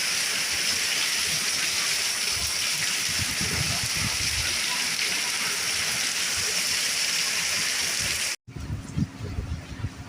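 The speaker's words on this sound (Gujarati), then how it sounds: "વરસાદનો અવાજ તો આવતો જ હશે" Steady, heavy rain hisses without a break for several seconds, then cuts off abruptly into a quieter stretch with light scattered sounds.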